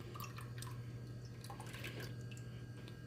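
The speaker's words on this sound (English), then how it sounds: "So go ahead and add your milk." Milk poured into a pot while making goat cheese, a steady liquid trickle with light dripping and splashing over a constant low hum, moderately quiet throughout.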